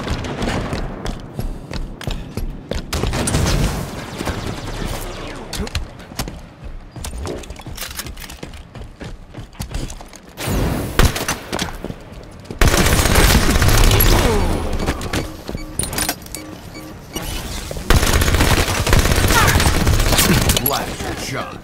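Submachine gun fire in a free-for-all video game match on the Empire map: loud, rapid bursts and crackling volleys that come and go over a busy game backdrop, with a voice talking throughout.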